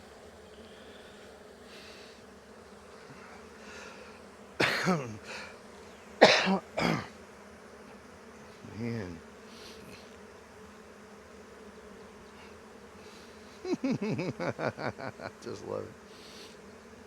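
A swarm of Russian honey bees being caught hums as a steady low drone throughout, with someone talking, coughing or clearing his throat in bursts over the buzz.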